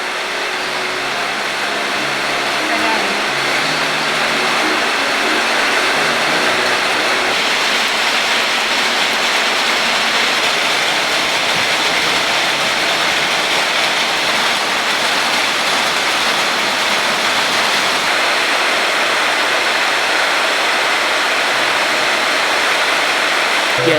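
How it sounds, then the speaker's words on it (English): Very loud, heavy rain pours steadily during a thunderstorm in Colombia, a dense unbroken roar of water that holds for the whole stretch. "I've never heard rain this loud ever"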